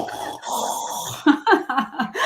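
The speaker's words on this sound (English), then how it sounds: "He's snoring his head off." A dog snores loudly and steadily nearby, its rough drawn-out breaths swelling and fading in a repeating rhythm, with brief snorting bursts toward the end.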